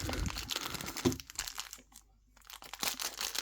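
Thin plastic zip bag crinkles and rustles up close in quick handling bursts, pausing briefly before more crinkling resumes.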